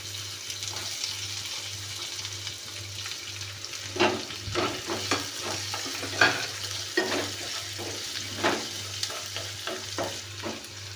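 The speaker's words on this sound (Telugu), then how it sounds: "ఇప్పుడు ఈ సన్నగా తరిగి పెట్టుకున్నటువంటి ఉల్లిపాయలు వేయండి" Finely chopped onions frying in tempering oil for egg bhurji, a soft continuous sizzle with repeated scraping stirs and clinks of the spoon against the pan over a low steady hum.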